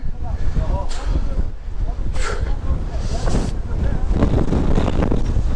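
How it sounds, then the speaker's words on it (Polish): Strong wind gusts outdoors near a church in a rocky cave-town area, roaring and buffeting the microphone continuously with blown sand, while someone talks over it. "Czuję, że ten wiatr z piaskiem wypiaskował mi ryja."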